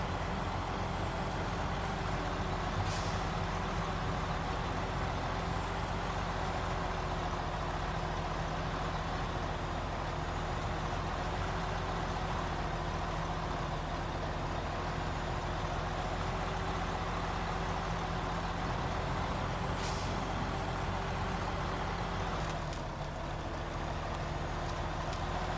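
A highway truck engine idles and rumbles in a truck-driving game, a steady low drone that runs unbroken, with two brief hissing air-brake releases about seventeen seconds apart.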